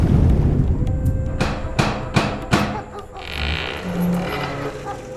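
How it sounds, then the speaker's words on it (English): Several distant gunshots from someone out shooting at night, sounding as four or five booming thuds spaced about half a second apart over a low rumbling background, with no voices. "Someone doing a bit of shooting."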